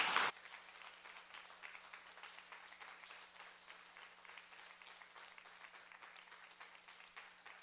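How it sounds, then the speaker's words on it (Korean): Congregation in a church sanctuary breaks into warm welcoming applause for a guest speaker, an elder who runs a marriage consulting company; steady, moderate clapping from a large crowd continues throughout after a brief loud burst at the start. "박수 쳐주시길 부탁합니다"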